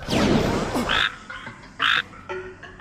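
Anime frogs croaking during a ninja frog transformation technique: a few loud, nasal croaks come in separate bursts over a busy effects-laden background.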